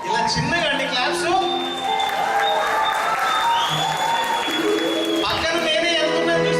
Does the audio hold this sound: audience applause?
yes